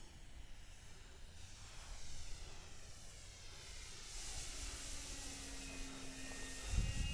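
An E-flite Super Timber RC model plane flies outdoors, its electric motor giving a steady, moderate whine with shifting pitch as it moves through the air over wind hiss, with no talking.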